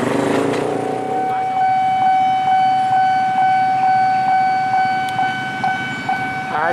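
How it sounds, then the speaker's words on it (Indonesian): A C1 locomotive nears the Jalan Pramuka railway crossing (JPL 40) in East Jakarta on the Kampung Bandan–Pasar Senen line. A loud, steady warning tone pulses at regular intervals over a low train rumble, and no one speaks. "Nah, itu dia teman-teman, lokomotif C1."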